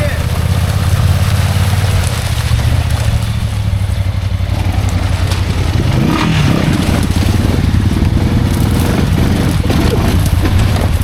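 A Honda ATV engine on a trail runs loud and close with a steady low idle rumble, building toward revving near the end, while people talk over it.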